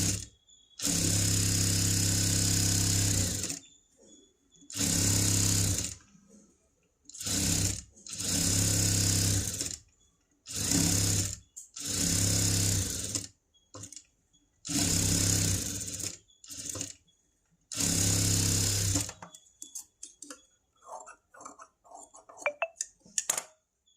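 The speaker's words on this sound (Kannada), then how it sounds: "ಸೊ ಇದನ್ನು ನಾನು ಫುಲ್ ಸ್ಟಿಚ್ ಮಾಡ್ಕೊಳ್ತಾ ಇದ್ದೀನಿ ವಿತ್ ಲೈನಿಂಗು" Sewing machine stitching a princess-cut boat-neck blouse with its lining, loud close motor runs in bursts of one to three seconds separated by short pauses, ending in faint fabric handling and clicks.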